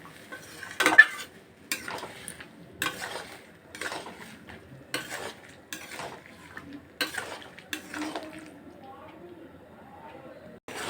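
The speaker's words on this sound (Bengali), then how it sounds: "এবার মটর সেদ্ধটা দিয়ে দেব। দিয়ে একটু কষাবো।" Boiled peas and potatoes stirred in a pan for ghugni, a ladle knocking and scraping the metal in a steady series of clinks with light sizzling underneath, close and fairly quiet.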